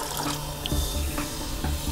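Water running steadily from a household tap, a continuous close rushing stream with small splashy bursts, no voices.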